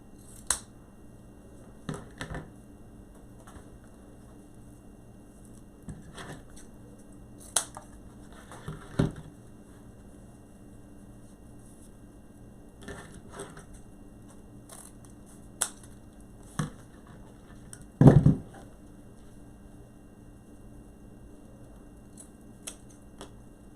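Scissors trimming ribbon tails for a grapevine Christmas wreath: a scattering of sharp, isolated snips spaced several seconds apart, close and fairly quiet over a low steady room hum, with one louder clipped cut near the end.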